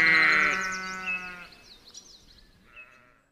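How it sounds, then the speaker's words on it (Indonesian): A white goat bleats once, long and wavering, then gives a few quieter, shorter calls that trail off, close and clear with no talking. "Ternyata ini kambing."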